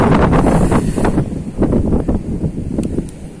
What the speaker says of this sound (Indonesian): Angin disertai gerimis sudah ada mulai nih.